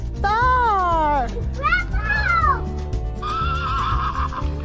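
A horse called Arapaho Star neighs loudly at close range, a long wavering whinny followed by shorter snorting calls, over a steady background of music and people's voices.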